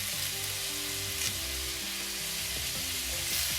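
Sliced garlic, split green chillies and curry leaves sautéing in oil in a pan for Kerala-style chicken curry, a dense steady sizzle throughout with faint stirring, close up and without voices.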